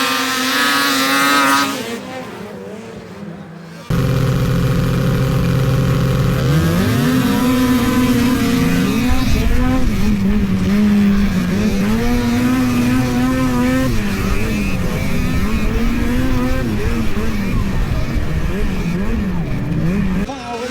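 Snowmobiles race at the Arctic Man event in the Alaska mountains, with loud, continuous revving and engine whine that rises and falls as the machines speed past close by, an announcer's voice audible over the engines.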